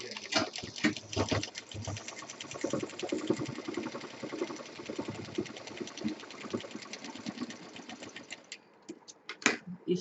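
Sewing machine stitching fabric for a mobile pouch, a rapid mechanical rattle in several bursts with brief pauses, close and fairly quiet.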